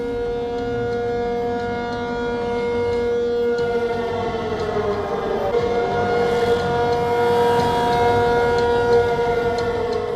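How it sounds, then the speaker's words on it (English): Air raid sirens wail across Taipei during a civil defence drill, a loud, sustained rising-and-falling tone with layered harmonics filling the whole stretch, no talk over it. "Air raid sirens blaring across Taipei's skies"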